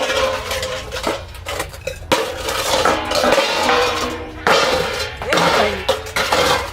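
Pots, dishes and metal utensils are scrubbed and clattered together in a village home, with continuous close clanking, scraping and knocking throughout.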